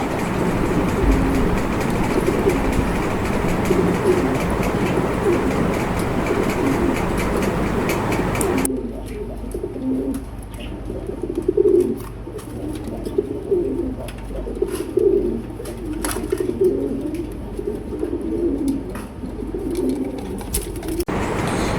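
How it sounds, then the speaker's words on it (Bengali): A male racing pigeon, kept beside a female, coos in repeated throaty rolls, close by. Steady background noise fills the opening seconds before the cooing stands out more clearly. "আমি অন্য একটি মাদি কবুতর দিয়ে নরটার ডাক আপনাদের শোনাই দিচ্ছি। দেখেন কি সুন্দর করে ডাকতেছে।"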